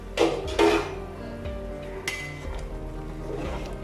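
A few metallic clanks and clinks of a lid placed on a pot of country-chicken biryani, with a bright clatter midway, over a low steady kitchen hum.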